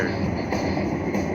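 Train sound effect from a Luxury Line slot machine, a steady rumbling rail-car roll that stays loud and continuous with no voices over it.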